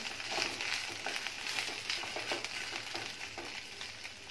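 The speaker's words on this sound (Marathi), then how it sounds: "ही भेंडी जरा मऊसर होईपर्यंत परतून घ्यायची आहेत आणि गॅसचा फ्लेम स्लो करून तयार करून घ्यायची आहेत" Okra stir-fried in a pan over a low gas flame, giving a continuous close sizzle with scraping stirs throughout.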